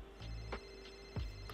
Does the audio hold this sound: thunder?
no